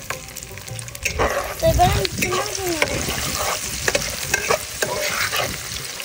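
Chopped chilies and onions frying in a pan for a special egg dish, a loud sizzle with scraping stir strokes throughout, and someone briefly speaking over it.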